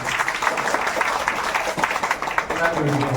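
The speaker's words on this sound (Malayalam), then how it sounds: "ഒരു കയ്യടി, ശക്തമായ ഒരു കയ്യടി" Audience applause at a Lions Club installation ceremony for new office bearers in Peravoor, a steady crowd clapping sustained at moderate volume throughout.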